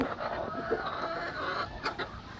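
Broody hens cluck in a nest box, low soft clucks and murmurs scattered across the moment with a brief sharper call near the end, close and faint.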